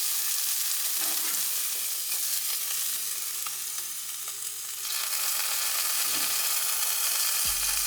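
A wagyu steak sizzles loudly and steadily in a hot pan right after being flipped, a dense close hiss and crackle that continues throughout with no talking.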